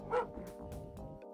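A dog barks in the 1990s DOS first-person shooter Rise of the Triad, a short burst of game-sound yips and woofs over the steady background of the level's music and effects.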